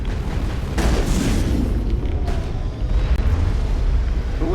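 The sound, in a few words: explosion from a shot explosive in video game Mass Effect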